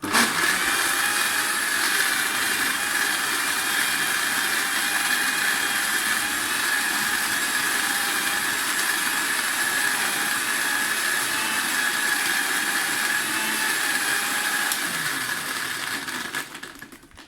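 A Panasonic MX-AC400 mixer grinder blends ice in its juicer jar, a loud continuous motor whine with rattling ice that runs steadily before winding down at the end.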